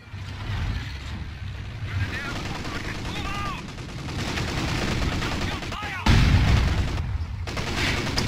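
Rapid machine gun fire and scattered battle bursts in the World War II strategy game Company of Heroes 2, steady and dense throughout, with a heavier boom near the end.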